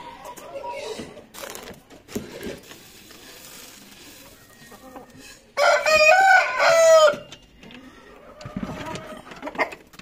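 Chickens in a coop let out a loud burst of raspy squawking and clucking partway through, amid rustling, handling noises and a person talking intermittently.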